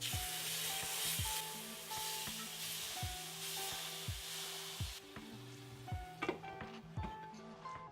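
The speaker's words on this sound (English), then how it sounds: "space out the meat and you're gonna hear the sizzle" Pieces of Cajun-seasoned chicken sizzle steadily in an already hot pan, a dense, close frying hiss broken by repeated clinks and scrapes of a utensil against the pan.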